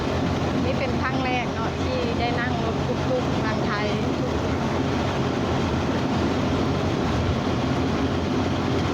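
A tuk-tuk in Thailand, riding from the Nong Khai border toward town, rattles and roars as it crosses railway tracks, with a continuous engine drone and clattering under faint voices.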